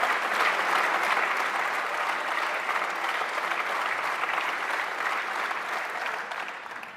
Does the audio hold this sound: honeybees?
no